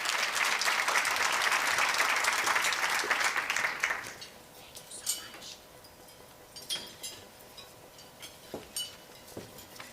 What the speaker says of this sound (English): I want you to give a big round of applause and welcome to Sheila King Goodwin from the Women's Leadership Series and Fidelity Bank